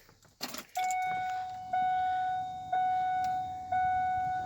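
A loose bunch of keys jangles as the key goes into the ignition of a high-mileage Ford F150 pickup. A steady electronic warning chime then starts, pulsing at an even rhythm inside the quiet cab.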